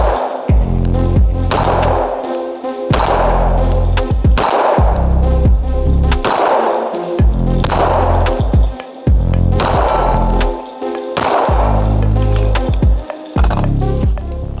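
Repeated shots from a CZ P-09 F Nocturne pistol, about ten loud, sharp reports in an irregular steady rhythm, each with a short ringing tail, close to the listener and with no talking.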